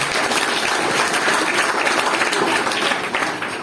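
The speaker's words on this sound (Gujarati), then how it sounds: "એના માટે જોરદાર તાળી પાડી" An audience at a school talk on the importance of books applauds a Class 8 student speaker, a dense burst of many hands clapping loudly and steadily for a few seconds, then tapering slightly at the end.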